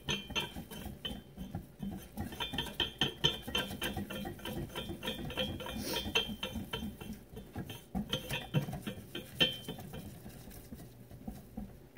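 A whisk scrapes and clatters steadily against a metal pan while stirring a roux for gravy, with quick repetitive strokes close by and no talking.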